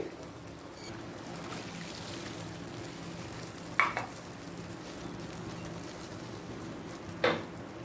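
Mustard water with pabda fish coming to a boil in a pan over a medium-high gas flame for a Bengali fish curry: a low, steady bubbling simmer with two brief clinks of utensils, no voices.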